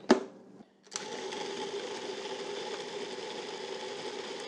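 Food processor chopping an orange raisin loaf mixture with butter: a brief start and pause, then a steady loud whirring motor hum that runs unbroken, close by, with no talk.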